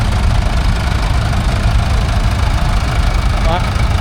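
An Ica tractor idles at a tractor parade at a steam and craft show, its steady low engine rumble loud and close throughout, with a faint brief whistle-like tone near the end.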